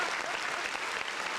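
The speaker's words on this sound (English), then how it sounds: "Yeah, round of applause." A round of applause from a crowd, dense and steady clapping held at an even level for its whole length, with no voices over it.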